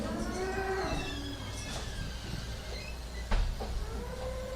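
Cattle moo at a team penning event, with several drawn-out lowing calls at middle distance over a rumbling arena background and a brief thud near the end.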